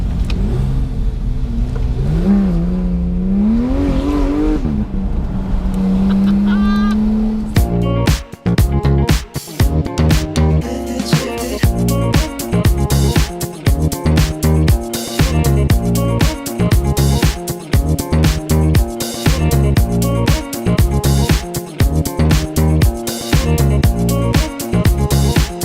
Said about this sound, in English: GT3 sounds amazing, feels fantastic